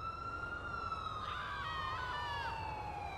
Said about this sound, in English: Here comes the zone car.